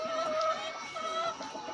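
Laying hens kept in a small egg-laying coop cluck nearby in short, tonal calls, fairly soft and overlapping, with no talking.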